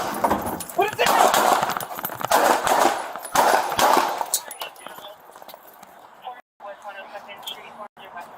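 Gunshots going off during a struggle between a police officer and a man, heard as a run of sharp bangs amid loud shouting and scuffling, then quieter commotion.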